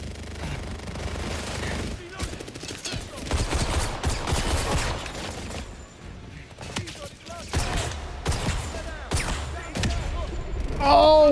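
Rapid gunfire from a 007 shooter video game, repeated loud bursts and volleys coming in irregular clusters, with a few quieter gaps in between.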